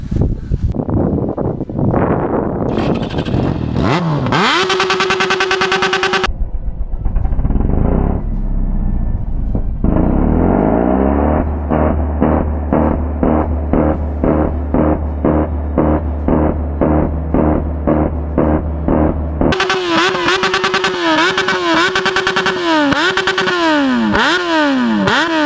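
A Yamaha XJ6 motorcycle engine revs hard in repeated bursts, rising and falling with loud throttle blips and sustained high-rev stretches, close by and with no talk over it.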